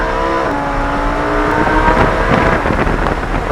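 A Lamborghini Huracán pulls hard at full throttle on a track, its loud engine note climbing steadily in pitch as it accelerates, heard close from inside the car without talk.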